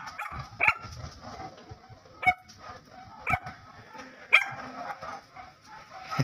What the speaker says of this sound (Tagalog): nagtahulan na po yung ating mga alagang aso sa kapitbahay